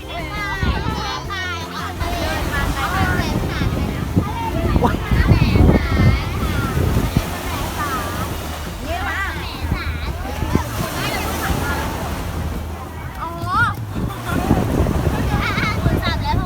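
Sea waves wash onto the beach near a camp in Sattahip, Chonburi, Thailand, in a constant surf roar with wind buffeting the microphone, under nearly continuous talk and voices nearby.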